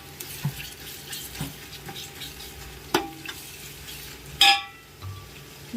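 Spices tempering in hot oil sizzle steadily with a few sharp crackles and pops, one loud spit near the end, close by with no talking.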